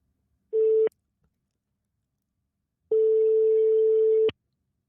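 A telephone line tone sounds while a call is placed: one short steady beep, a pause, then a longer steady tone, clear and alone in silence.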